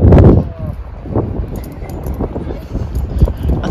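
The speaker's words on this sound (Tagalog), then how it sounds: "At saka ano, mahangin ngayon." Gusty wind rumbles and thumps against the microphone, loud at first, then steadier, with muffled movement and faint background noise.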